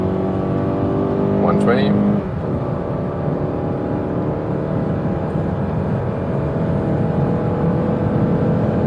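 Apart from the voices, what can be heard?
Mazda CX-5 accelerating hard in sport mode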